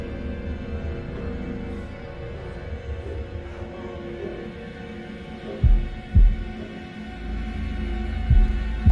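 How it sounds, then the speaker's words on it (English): A slow heartbeat thumps in the horror video game Man of Medan, several soft low pulses under a steady background hum, with no talking. "Press S in time with the heartbeat."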